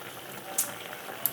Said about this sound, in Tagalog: Antayin lang natin siyang kumulo.